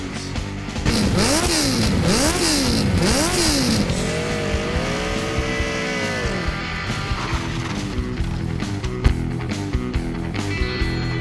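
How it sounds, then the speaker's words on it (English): An engine revs up and down in several rising and falling sweeps, then holds a steady high drone, loud and close. "Rev up your engines!"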